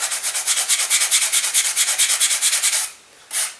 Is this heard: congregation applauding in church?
no